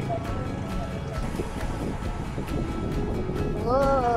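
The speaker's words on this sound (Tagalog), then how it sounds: "Lakas na hangin." Strong wind buffets the microphone as a cyclist rides a road loop around Banahaw, a steady broadband roar throughout with a brief whistling tone near the end.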